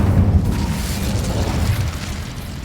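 An Incendio fire spell in a wizard video game roars out as a loud, low rumbling whoosh of flame, sustained and steady for a couple of seconds with a slight fade near the end, no voices.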